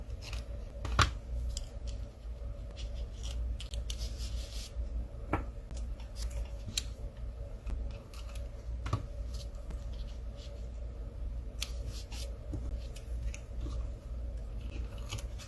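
Tape is pressed down quickly onto paper scraps during card making, heard as close, steady rubbing and scratchy bursts with small taps, and no talk.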